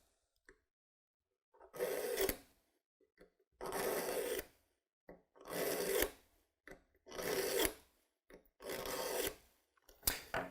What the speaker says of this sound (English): Place the knife in the carbides, apply medium pressure, pull all the way through, maybe 5 or 8 strokes.